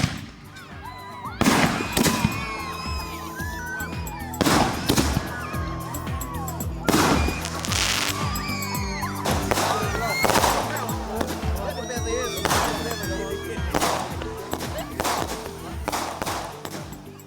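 Sharp bangs pop at irregular intervals, fireworks cracking fairly close amid a noisy outdoor crowd at a Kenyan community gathering in Kansas, with voices and chatter throughout.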